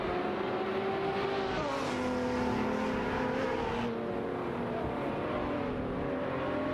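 Koenigsegg and Lamborghini Aventador SVJ race cars in an AI racing video game, a steady engine drone with rising and falling pitch shifts as the cars accelerate and change gear, heard without talk.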